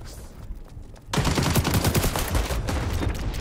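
Rapid automatic gunfire in the online shooter XDefiant, a quiet lull giving way to a dense, loud burst of sustained shots that keeps going to the end.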